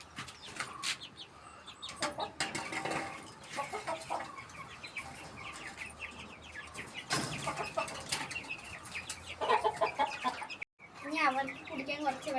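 A hen and about ten chicks in a cage cluck and peep while feed is set out for them. Soft clucks and high chick chirps come close by, with a rustle of wings in between.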